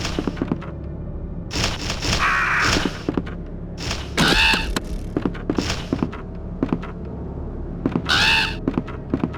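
Crows caw in the video game Resident Evil 2, several harsh, scratchy calls in separate bursts spread across the stretch, with short clacks and thumps between them.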